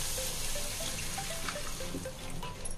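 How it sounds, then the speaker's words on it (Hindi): Water pours into a pan of cooked vegetables while Maggi noodles are being made, a steady close trickling splash lasting a few seconds with no talk. "अब इसमें हम पानी ऐड करेंगे।"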